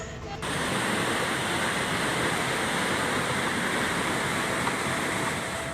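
Floodwater from the overflowing Aik Garoga River surges in a flash flood carrying timber toward homes in Batang Toru, South Tapanuli, North Sumatra, a continuous loud broadband rushing roar that starts abruptly and holds steady.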